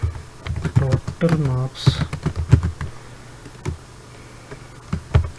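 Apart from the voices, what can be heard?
typing code on a computer keyboard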